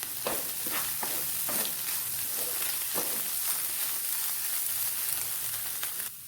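Salted cabbage and grated carrot for thoran hiss in a hot pan while a spoon stirs them, its scrapes landing every second or so over a constant sizzle.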